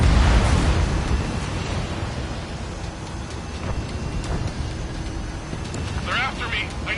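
A missile launches and explodes in an air combat video game, opening with a loud, roaring blast that trails into a long rumbling wash while radio voices talk over it.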